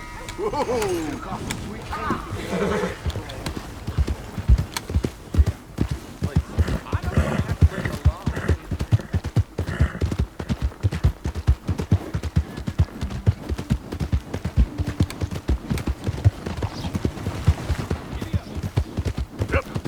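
Rapid hooves clatter in a steady galloping rhythm throughout, with a horse whinnying near the start and faint voices underneath, in the video game Red Dead Redemption 2.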